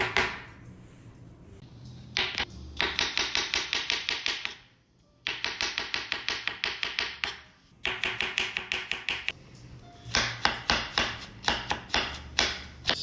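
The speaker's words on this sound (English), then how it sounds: "This is called chopping the mushrooms." A knife chops mushrooms finely on a board while a stuffed shrimp appetizer is prepared: quick, close bursts of rhythmic blade taps with short pauses between runs.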